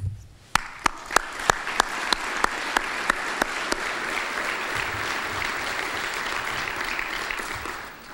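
Audience at a university faculty convocation bursts into applause, starting with a few sharp solo claps that swell into steady, broad clapping across the hall.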